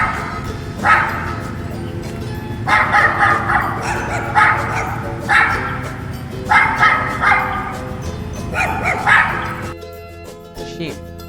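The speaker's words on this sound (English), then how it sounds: "dog माने कुत्ता." A dog barks repeatedly in close, sharp bursts over a low background rumble, the barks coming in clusters of two or three with brief gaps.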